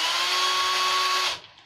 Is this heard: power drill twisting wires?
yes